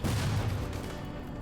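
Explosions and gunfire in a video game, a loud dense rumbling blast that slowly fades, with no talking.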